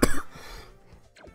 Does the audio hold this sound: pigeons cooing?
no